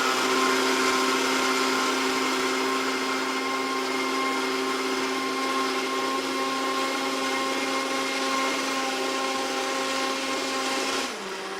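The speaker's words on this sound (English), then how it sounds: "we're going to turn it on and let it blend" A Hurricane compact juicing blender (CPB 380) runs steadily at high speed, a loud continuous motor whine with tonal hum, holding even until it shuts off near the end.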